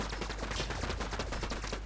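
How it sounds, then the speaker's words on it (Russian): An autocannon fires in the video game Prime World as a dense, rapid, continuous stream of loud shots, with no pause throughout. "Автопушка. Это гениально."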